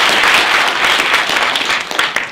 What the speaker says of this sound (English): let's give him a round of applause in appreciation